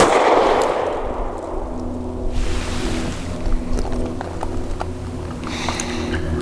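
Several quick pistol shots from a SAR USA B6C handgun, fired in rapid succession after a loud opening blast, with sharp cracks fading into the background.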